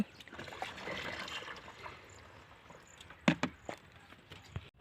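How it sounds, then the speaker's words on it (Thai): Water is poured from a cut plastic bottle into a herbicide mix, giving a soft trickling splash with scattered sharp knocks and handling clatter near the end. "ตอนนี้เราก็เทน้ำ เทน้ำลงไปเลยนี่"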